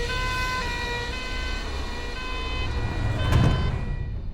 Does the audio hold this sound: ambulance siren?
yes